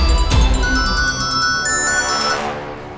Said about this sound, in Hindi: आ रही, फोन की आवाज आ रही है,